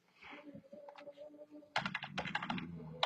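Rapid clusters of keystrokes clatter on a computer keyboard, close and clear, after a quieter opening with soft tonal background hum; the tapping comes in uneven bursts with short pauses.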